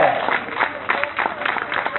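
An audience applauds with dense, rapid clapping that goes on throughout, with a voice talking over the top.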